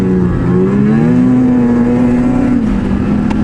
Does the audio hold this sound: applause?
no